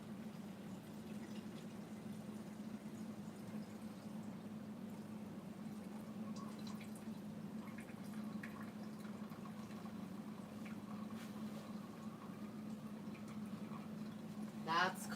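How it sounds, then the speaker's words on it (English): Coffee pouring, a soft continuous liquid trickle with a steady low hum underneath, faint and sustained, with a brief clatter near the end. "That's coffee pouring."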